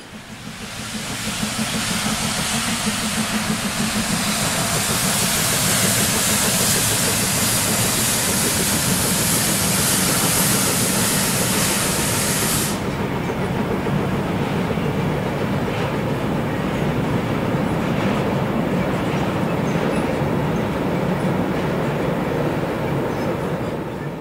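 A steam freight train hauled by a colliery locomotive rumbles past with loud continuous hissing and chuffing, a broad roar that stays intense throughout.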